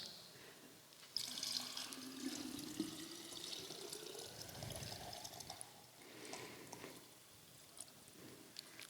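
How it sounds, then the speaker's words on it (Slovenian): Water from three vessels is poured together into one jug during an ecumenical church service, a faint continuous trickling and splashing that runs for several seconds with small drips. "In sedaj lahko skupaj zlijemo vodo"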